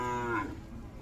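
A dwarf Punganur (Vechur) cow gives a single short moo at a livestock fair, close and clear, with no talking.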